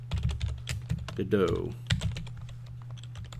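Typing on a computer keyboard while filling in a text field in the Godot game engine: a run of quick, close, crisp key clicks, with a short stretch of talk partway through.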